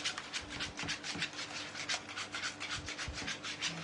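A kiwi tiramisu mixture being stirred in a bowl gives a continuous, close scraping and rubbing as the utensil sweeps around, with steady strokes and no talking.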